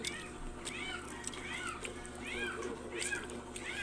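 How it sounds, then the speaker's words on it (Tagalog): A cat lets out four or five short, whiny meows in a loose rhythm, close by, over a low background hum. "Sulong ng iring murag bata ang ngiyaw."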